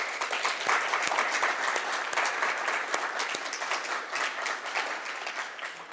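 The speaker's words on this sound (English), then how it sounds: "Please join me to give them a big applause." Steady, dense applause from a conference audience honoring panel moderators and panelists, sustained and even throughout with no voices over it.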